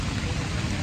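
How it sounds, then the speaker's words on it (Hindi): Heavy rain comes down in a short burst, a close and fairly loud rushing patter with no speech. "ऊपर से बारिश हो फुल बारिश है"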